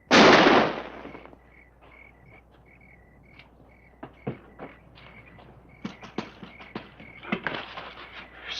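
A single sharp gunshot bursts loudly at the start of a western TV episode scene, then fades into a quiet background of crickets and small clicks and taps.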